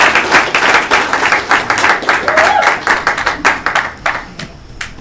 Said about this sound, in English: The man himself, VaporJoe, give a round of applause